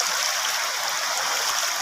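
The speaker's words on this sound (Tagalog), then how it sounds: "napakalakas ng agos dito po sa ilog" A strong river current after rain rushes in a constant, loud hiss, steady water noise filling the whole moment with no voices.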